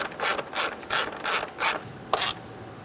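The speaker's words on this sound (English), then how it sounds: "So now we're going to take an 8mm socket and a long extension," A ratchet with an 8mm socket on a long extension tightens a bolt into a plastic holder on a 2000-2007 Ford Taurus 3.0L V6, giving six bursts of close, crisp clicking in an even back-and-forth rhythm, with no talk.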